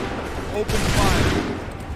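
A ragged volley of muskets fired by a line of soldiers in Assassin's Creed III, a sudden crackling burst that swells and then lingers into a rumbling tail.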